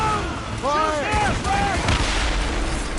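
Cannon fire in the Assassin's Creed Rogue video game during a naval ambush: rumbling booms build through the second half of the clip. Shouted voices ring out near the start.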